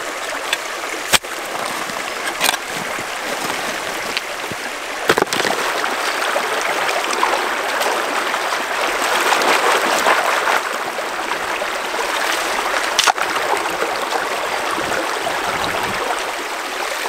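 Water rushing and trickling along Starvation Creek, a steady, close, fairly loud flow with occasional sharper splashes and knocks, no talk.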